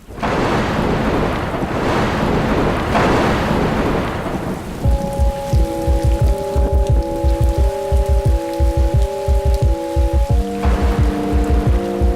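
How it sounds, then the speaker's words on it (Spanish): Heavy rain pours steadily over open ground with rumbling thunder, loud and continuous; midway, a rhythmic musical tune begins and plays over the downpour. "Llueve en el campo y en la ciudad."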